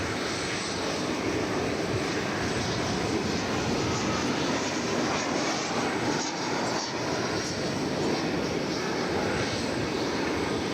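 A fixed-wing airliner arriving at DFW Airport in Texas from Wichita, Kansas, its engines giving a steady, distant rumbling drone that holds evenly for several seconds without speech.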